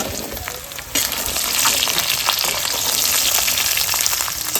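Jujubes drop into hot oil with five-spice, bay leaf and ginger for pickle-making, and the quiet pan erupts after a second into loud, sustained close frying sizzle with crackles.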